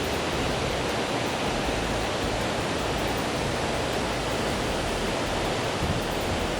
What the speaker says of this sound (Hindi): जो वाटरफॉल गिर रहा है उसका पानी इस बेंच तक आ रहा है